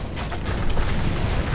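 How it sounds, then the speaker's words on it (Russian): A backdraft fire bursting in the video game GTA V, a dense, rumbling whoosh that holds steady and close throughout, with no voices over it. "обратная тяга пошла"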